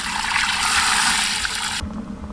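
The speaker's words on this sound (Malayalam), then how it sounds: "നമുക്ക് കുറച്ച് വെള്ളം ഒഴിച്ചു കൊടുക്കാം." Water pours steadily into a pot of buffalo leg bone marrow for cooking, a loud, continuous rushing splash that stops abruptly near the end, leaving quieter kitchen background.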